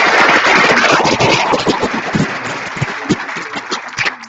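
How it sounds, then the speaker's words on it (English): Clapping from a governing board meeting audience for the board president, a dense, loud burst at first that thins out and tapers into scattered claps. "a round of applause."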